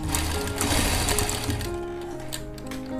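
A sewing machine stitches a jacket (koti) for a frock or kurti, running steadily with a dense, close mechanical rattle throughout, with no talking.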